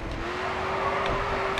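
Race car engine in GRID 2 held at a steady high rev, a continuous buzzing drone with a faint tonal whine over it, loud and close throughout.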